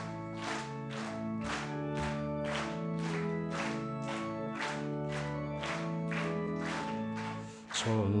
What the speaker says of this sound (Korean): 박수를 한번 치시면 어떨까요?